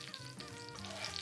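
Duck skin frying in a hot pan, a dense, steady sizzle with crackling pops, close and continuous, cooking slowly until crisp and golden.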